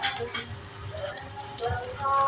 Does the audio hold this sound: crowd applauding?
no